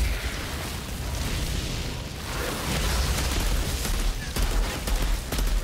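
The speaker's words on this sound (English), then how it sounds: "Mortar strike." A mortar strike in the video game Outriders sets off a dense, sustained barrage of rumbling blasts and crackling bursts, loud and close, layered continuously over several seconds.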